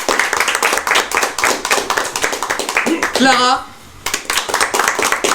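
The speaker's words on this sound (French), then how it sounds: "qu'on peut applaudir." Audience at a live French podcast recording claps steadily and fairly close for several seconds, breaking off briefly as a voice rises over it, then the clapping resumes.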